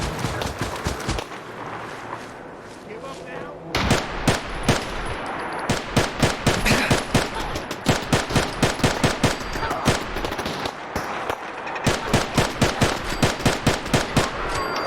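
Rapid bursts of automatic gunfire aimed at a turret in Fallout 4 VR, loud and close, with dense rattling volleys that pause briefly and then resume, continuing almost without a break.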